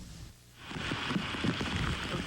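Steady rain falls in Norfolk, Virginia, a soft continuous patter that swells in after a brief quieter moment and holds at a moderate level to the end.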